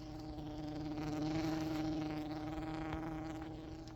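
A soft, steady droning hum of a honeybee swarm inside a box, low and continuous without any break, faint and close.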